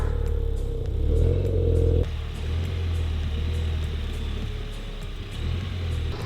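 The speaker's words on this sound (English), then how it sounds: "now just to drive the car onto it" A car idles and revs as it is slowly driven onto a platform to be stored for winter, with a steady close engine drone, a brief louder rev early on and light clattering.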